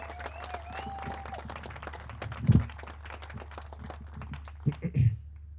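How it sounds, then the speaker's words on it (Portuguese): Audience applauding at a public event, a scattered patter of claps running throughout over a low steady hum, with a few louder voiced bursts and a brief tone early on. "Um aplauso, bem mais para o time"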